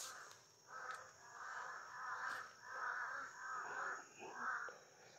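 Several crows caw repeatedly in rough, overlapping calls, faint and at a distance, coming in a loose rhythm of bursts.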